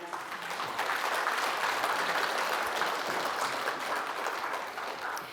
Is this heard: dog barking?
no